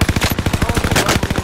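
Rapid automatic gunfire in Call of Duty: Modern Warfare, a loud, close burst of evenly spaced shots in quick rhythm lasting about a second and a half.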